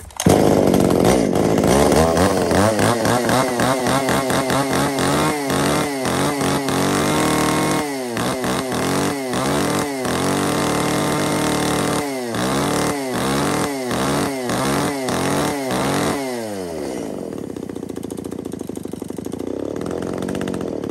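A Hitachi D8 chainsaw, a Japanese domestic-market model with a 30 cm cutting bar and mini chain, runs close by, revving up and down repeatedly before settling to a lower idle near the end.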